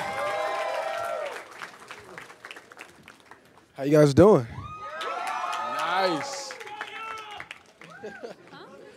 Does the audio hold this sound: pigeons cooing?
no